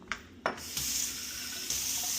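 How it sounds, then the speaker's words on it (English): Tap water runs into a pan of thick homemade tomato sauce, a steady hissing stream after a few short splashes and clinks, close by with no talk. "what I like to do is just add a little water"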